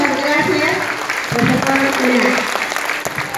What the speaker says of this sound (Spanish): Aplausos para ustedes porque estamos recordando y valorando nuestra bandera.